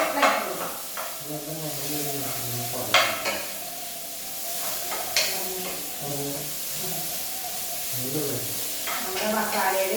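Sliced onions stirred in a hot pan while biryani masala with ginger and garlic cooks, giving a steady sizzle with scraping stirs and a few sharp knocks of utensil on pan, while a person talks throughout.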